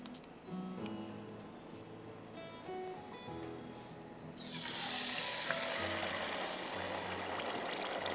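Tender mutton dropped into about a quarter cup of hot oil for karahi, a sudden loud sizzle that starts partway through and holds steady after a quieter stretch of kitchen background with music.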